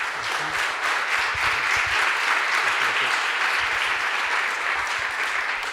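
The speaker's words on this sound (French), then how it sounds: "Je vous laisse l'applaudir." Audience applause in an amphitheatre welcoming racing driver Alain Prost to a conference debate: dense, steady clapping filling nearly six seconds at an even level.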